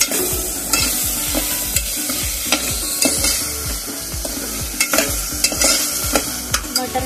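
Cauliflower being stirred into melted tomatoes in a pan for Mumbai-style pav bhaji, with repeated scraping strokes of a spatula over a soft sizzle, close and steady, no voices.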